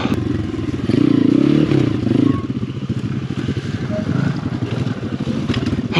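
A Chinese pit bike motorcycle rides along a trail, its small engine buzzing loud and close and rising in short revs, with clattering and scraping over rough ground.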